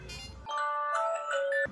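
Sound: phone ringtone ringing

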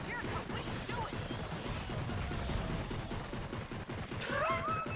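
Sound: handgun gunfire in the video game Darkwatch

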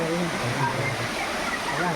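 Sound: hidden waterfall at Pavagadh, water falling

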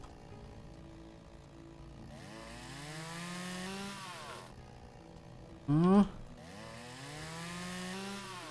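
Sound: chainsaw cutting a tree in the video game Lumberjack's Dynasty

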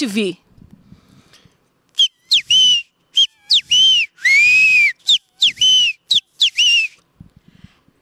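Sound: human whistling imitation of bem-te-vi call

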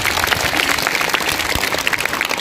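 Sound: audience applause for teachers at school program

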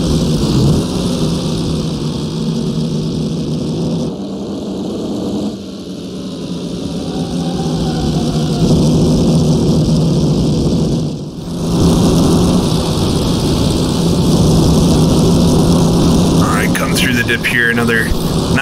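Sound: 1923 Grand Prix car engine revving in Assetto Corsa video game

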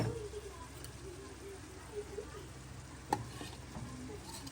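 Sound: goat brain frying and being stirred in a pan

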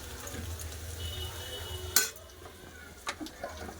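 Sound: potatoes frying with spices in a pan

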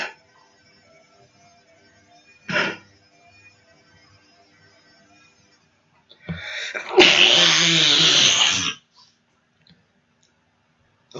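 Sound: sneeze

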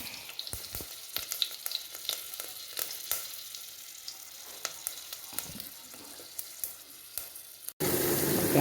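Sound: onions sizzling as they fry in a pan

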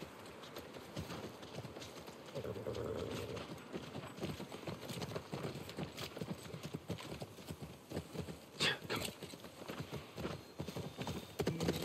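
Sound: horse hooves clip-clopping, from the video game The Last of Us

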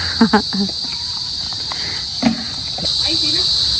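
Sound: crickets chirping in the late afternoon

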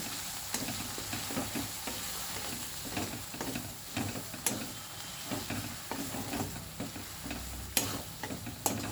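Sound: spice paste being stir-fried in oil

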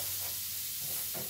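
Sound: stirring food in pan

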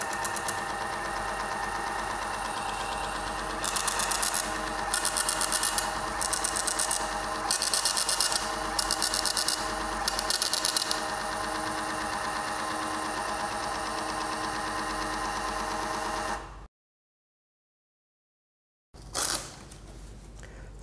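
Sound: WH-T2 thermal printer printing a label from SKY-C scale

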